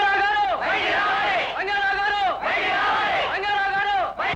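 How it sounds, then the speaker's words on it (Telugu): A crowd of many voices shouts and yells together in a tense film confrontation, loud and continuous, swelling in rough bursts about once a second. "ఏమిటి అరుపులు కేకలు?"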